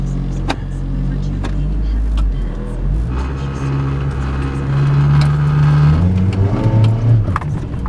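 A 1994 Toyota Corolla 1.6 automatic with a slipping transmission, its engine droning steadily and rising in pitch as it revs without pulling, loud and close inside the car, with brief speech over it.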